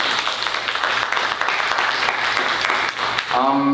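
Auditorium audience at a senior summit applauding two presenters, a dense wash of clapping, with a voice starting to speak over it at the end.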